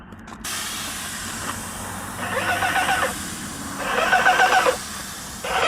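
A lawn sprinkler spraying water under too-high pressure with a steady hiss, swelling into louder rushing bursts twice before easing back.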